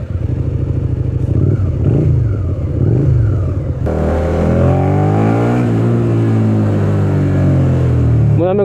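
A Suzuki Gladius 650 motorcycle, a 2012 model, idles loudly up close, then its engine note jumps and rises in a sustained rev as the test ride begins.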